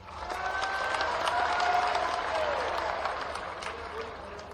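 Sustained audience applause at a political rally addressed by a chief minister, a dense broadband wash of clapping that swells and gradually eases, with a few faint tones and murmurs beneath.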